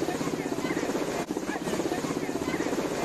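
A helicopter's rotor and engine roar steadily and loudly throughout, a continuous pulsing drone with a brief dip in the middle, no speech over it.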